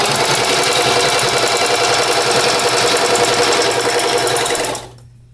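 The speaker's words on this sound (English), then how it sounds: "I line my ribbon up on top of my fringe, move my fringes out the way. I'm brushing them out the way, and then I sew." A sewing machine stitches ribbon onto fringe trim in a fast, steady, close mechanical whirr that runs loud and unbroken, then cuts off abruptly near the end.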